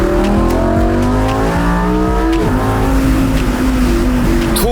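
A Lamborghini Huracan's 5.2-litre V10 engine roars loud and high-revving, its pitch climbing and dropping through several rev sweeps at close range.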